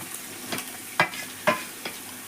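Chilli and tomato being stirred into sautéed onions in a pan: a soft background sizzle punctuated by four distinct spoon scrapes and clinks at irregular intervals, close and fairly quiet.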